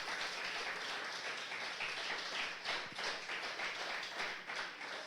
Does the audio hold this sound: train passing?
no